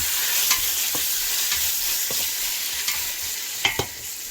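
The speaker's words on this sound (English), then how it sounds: "Stir the bacon." Bacon sizzles steadily in a frying pan while being stirred, with a constant hiss and a few scraping clicks of the utensil against the pan, close up, with no voices.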